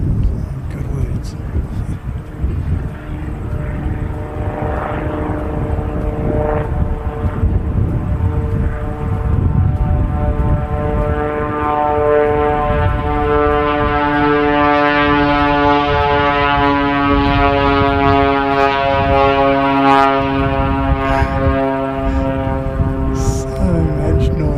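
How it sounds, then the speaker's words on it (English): A USAF C-130 propeller aircraft doing a touch and go roars loudly and steadily, its engine drone rising in pitch as it passes close by, with a voice talking over it. "So much noise from a wee plane."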